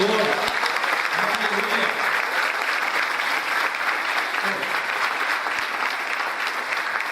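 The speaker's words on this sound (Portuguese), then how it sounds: "Dê uma salva de palmas ao Senhor" A church congregation claps steadily and continuously for several seconds at a dense, even level, with faint voices mixed into the applause.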